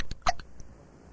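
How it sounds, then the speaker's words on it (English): Cartoon character Bart Simpson hiccups, one sharp close hiccup followed by a couple of fainter clicks, then quiet. "This is the worst case of hiccups we've ever treated."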